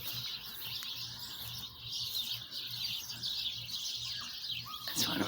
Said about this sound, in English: these birds are having a great time